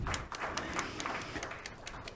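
An audience at a school governing board meeting breaks into applause, a fairly quiet patter of scattered hand claps with distinct sharp claps standing out over a soft room background.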